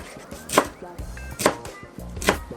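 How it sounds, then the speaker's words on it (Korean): Knife chopping blanched, squeezed amaranth greens on a cutting board, three distinct thuds spaced evenly, close and crisp with no talk. "또 먹기 좋게 썰어줄게요"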